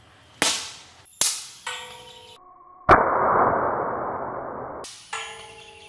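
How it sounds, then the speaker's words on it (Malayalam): A Steyr LP10 air pistol is handled and fired indoors: several sharp metallic clicks and clangs ringing briefly, then a long hissing release of air, followed by another ringing click, all close and fairly quiet. "നമ്മുടെ കണ്ണൻ ഈ തോക്ക് ഉപയോഗിച്ചിട്ടാണ് ഇത്ര നേരം ഫയർ ചെയ്തുകൊണ്ടിരുന്നത്"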